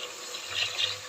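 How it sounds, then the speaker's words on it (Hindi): Water pours steadily from a glass into a cooking pot holding chana dal, a brief, continuous splashing rush with no voices. "अब हम इसमें पानी डालेंगे।"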